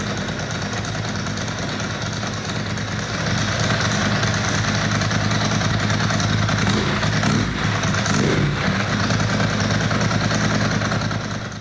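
Close, steady idle of a Ducati 996 motorcycle engine running at about 1200 RPM after throttle body balancing, loud and even throughout with no talking.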